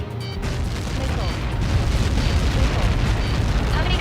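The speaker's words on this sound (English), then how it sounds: "How many got caught in that explosion?" Massive impact explosion in the Ace Combat 7 flight game's Lighthouse mission, a dense rumbling roar with crackling bursts that swells and holds steady through the whole stretch, loud and close.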